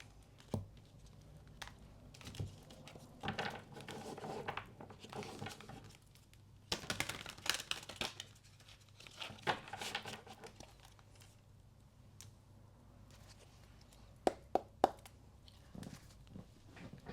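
Soft rustling and papery flicks of tarot cards being shuffled come in bursts, with a few sharp taps near the end, close by and fairly quiet.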